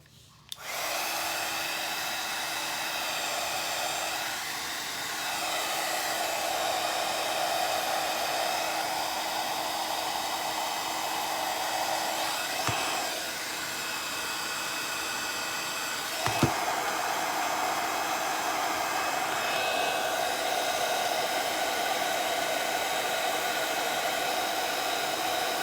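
A heat tool blows a continuous loud whooshing roar while warming a glued terracotta plant pot, running steadily close by for the whole stretch after a quick start, with a couple of small clicks partway.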